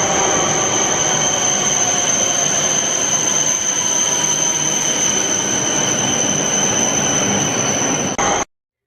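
A Japanese Shinkansen bullet train rushes past loudly and steadily, with a sustained high-pitched squeal over its roaring rumble, then cuts off abruptly just before the end.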